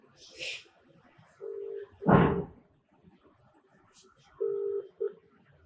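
Phone dialed on speakerphone in an office: a few short electronic key tones sound amid quiet background chatter, with a sharp thump partway through.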